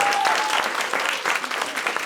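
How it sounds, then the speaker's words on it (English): Audience at a live stand-up comedy show in Bucharest applauds steadily, a dense close clatter of many hands filling the room without a break. "a round of applause for them"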